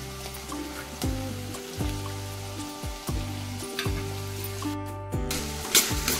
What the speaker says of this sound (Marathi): हे आता एक 4-5 मिनिट आपण परतवणार आहोत चांगलं